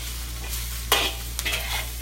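Scallions hitting a hot wok with eggplant already in it, giving a steady close sizzle with two sharp bursts as the food is tossed and stirred.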